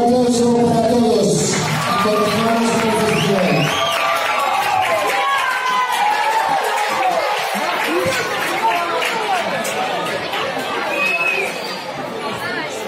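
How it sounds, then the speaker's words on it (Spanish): An award ceremony crowd at a school Christmas festival claps and cheers loudly for the whole stretch, with whoops and busy chatter mixed into the applause; a voice is heard briefly at the start. "Un aplauso para todos."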